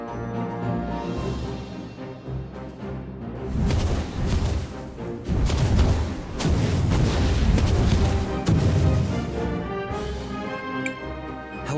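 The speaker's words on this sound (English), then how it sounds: "there are additional bombs detonating nearby" Bombs detonate nearby in the game Cristales, heavy booming blasts rolling over a sustained dense rumble and clatter, loud and close, with a musical drone underneath.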